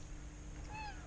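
A domestic cat gives a single short, high meow near the end, heard close up over a quiet indoor room hum.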